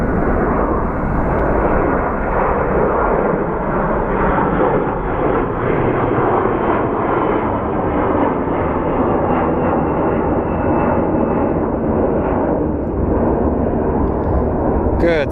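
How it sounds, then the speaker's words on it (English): A Delta airliner takes off at Phoenix Sky Harbor airport, its engines a loud, sustained roar with rumbling, unbroken from start to finish. "Ooh, plane taking off. Go, go, go, go, go. It's a Delta."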